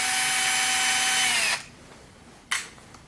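A power driver runs steadily while backing screws out of a Bernina 217 sewing machine, a loud continuous whine for about a second and a half, then silence broken by one short burst near the end.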